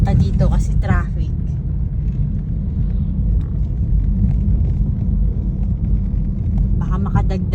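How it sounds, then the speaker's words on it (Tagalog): Dense road traffic in Baguio City rumbling continuously at close range, a low steady drone of idling and creeping motor vehicles, with a voice talking briefly at the start and again near the end. "Sobrang traffic, di ba? Kitang-kita niyo naman."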